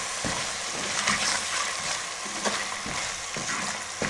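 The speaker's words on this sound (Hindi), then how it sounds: "मीडियम फ्लेम पे 3 से 4 मिनट इसकी अच्छे से भुनाई करेंगे" Spice masala with crushed red chilli sizzles and fries in a pan over a medium flame, a constant hissing crackle broken by regular scraping strokes of a stirring spoon, close and with no voices.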